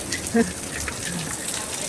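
Steady rain hiss fills the whole stretch in Hong Kong, with a brief low thump near the start and faint voices in the background.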